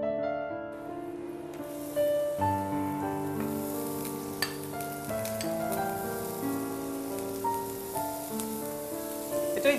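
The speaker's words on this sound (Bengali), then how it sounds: "এবার এর মধ্যে একটু পেঁয়াজ কুচি দেবো" Chopped onions sizzle in hot mustard oil with whole red chillies, a steady close frying hiss that runs throughout, heard under background music and without talk.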